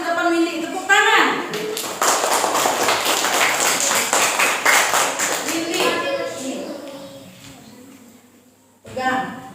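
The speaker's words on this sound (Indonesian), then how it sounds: "Tepuk tangan." Students clap in a classroom during a maths lesson, a loud burst of many hands that builds and then fades out, with a teacher and someone speaking before and after.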